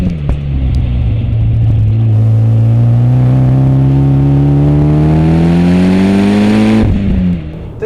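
A tuned Mitsubishi EVO X engine drones loudly from inside the car on canyon roads, pitch climbing steadily through a long pull before a sharp shift or lift near the end, then settling again.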